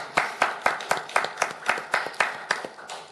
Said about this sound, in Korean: 살아계신 아버지 하나님께 감사와 영광의 박수를 올려드리겠습니다